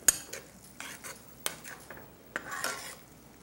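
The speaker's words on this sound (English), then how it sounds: "Stir it in real good." Canned chili being stirred into a hominy casserole, a spoon scraping and clinking against the pot in irregular bursts with a sharp knock at the start and a faint sizzle between strokes, close up with no talking.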